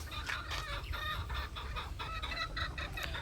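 Chickens on a Philippine rooster farm cluck repeatedly in short, overlapping bursts at moderate distance, a busy flock chatter with no talk.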